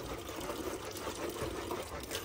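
A sacrificial animal drinks from a water tap, mouth at the spout, giving a steady close splashing, running-water sound throughout.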